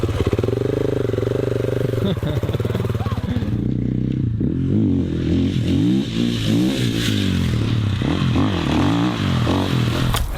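A new KTM 450 EXC-F motorcycle engine runs loud and close, idling unevenly before rising and falling in a series of revs, with speech over it.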